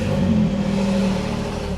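Porsche 911 engine running steadily at a moderate idle with a smooth low hum and harmonic whine, close and continuous, no voices.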